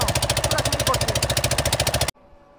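A boat engine runs on a flooded river in the Bhutni area of Malda, giving a loud, close, steady pulsing chug that cuts off abruptly and leaves quiet background noise.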